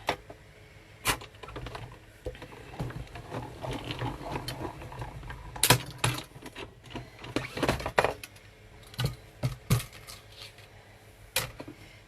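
Die-cutting machine running card through Stampin' Up dies, a rough grinding rumble broken by irregular clicks and clunks, close and moderately loud, with no talk.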